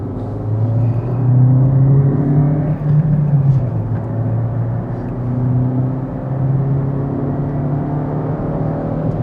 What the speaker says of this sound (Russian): Механическая коробка, вот, педаль в пол.